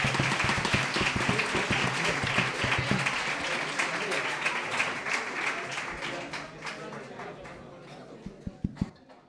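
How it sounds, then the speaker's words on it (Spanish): Audience applause at a restaurant's opening-night stage act, loud and continuous at first, then tapering to a few scattered claps near the end, with voices talking through it. "queremos darle todo un fuerte aplauso."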